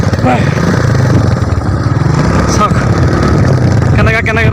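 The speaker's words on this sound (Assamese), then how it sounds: "ৰাস্তা দি কিনে আমি বাইক লৈ গৈ আছোঁ" A motorcycle rides along a village road in Tamil Nadu, its engine droning loudly and steadily right up close from start to finish, with rushing wind noise on top.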